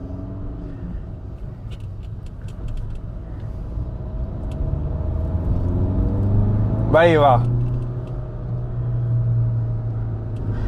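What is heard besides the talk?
Volkswagen Vento diesel engine accelerating while driving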